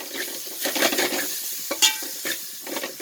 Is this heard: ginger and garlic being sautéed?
yes